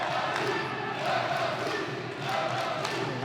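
Foreign fans cheer and chant for a fighter at a Muay Thai boxing match at a Phetyindee event, a loud, continuous crowd roar with rhythmic swells, and a commentator speaks briefly over it.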